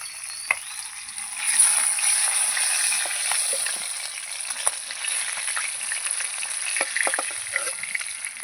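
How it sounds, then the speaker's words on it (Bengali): Pieces of fish frying in a pan, with steady oil sizzle broken by frequent sharp pops and crackles, close and fairly even in level. "এই দু পিস মাছ ছিল এটাও ভাজা হয়ে গেছে"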